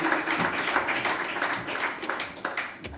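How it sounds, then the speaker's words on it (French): Audience applause for an award winner at an engineering school prize evening, a continuous moderate wash of many hands clapping in a room, steady and fairly close with no speech. "On peut l'applaudir."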